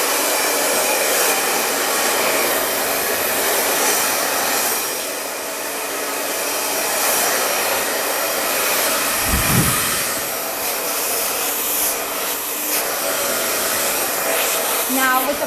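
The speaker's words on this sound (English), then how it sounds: "I'm going to blow dry this piece of hair." A hair dryer blows steadily and loudly at close range while bangs are blow-dried with a brush, the airflow dipping briefly midway as the dryer shifts before roaring on continuously.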